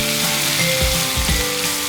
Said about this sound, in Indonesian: Pertama, panaskan minyak, lalu tumis bumbu halus.